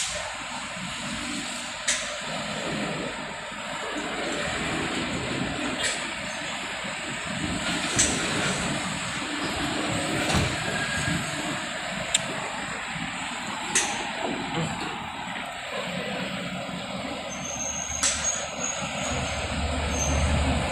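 ALS intercity buses numbered 154 and 283 pulling out of a terminal bound for Medan, a steady engine rumble with air-brake hisses and a sustained high whine, continuous and fairly near.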